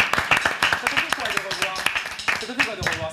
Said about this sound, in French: Alors les amis, on peut applaudir quand même.